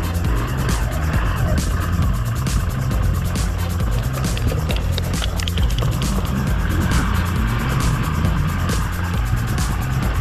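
A Hero XPulse 200Fi motorcycle being ridden on a road in Himachal, giving a steady, loud engine drone with wind and road rumble that continues unbroken throughout, with no talking.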